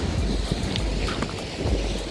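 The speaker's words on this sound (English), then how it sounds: "It's pretty windy." Strong wind buffets the microphone in a steady roar, with gusty bursts and faint surf beneath, outdoors on an exposed rocky shore.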